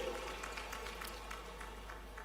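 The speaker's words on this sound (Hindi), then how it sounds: "जोरदार तालियां बजाएं माननीय सिंधिया जी के लिए" Audience at a political event in Azamgarh with PM Modi applauds, steady moderate clapping and crowd noise over a constant low hum.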